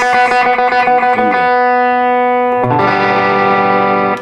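A strummed electric guitar chord rings out through chorus and distortion effects, fading, then a second chord is struck and sustains brightly to the end.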